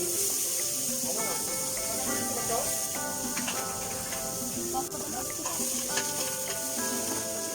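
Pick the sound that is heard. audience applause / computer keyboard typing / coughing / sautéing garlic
sautéing garlic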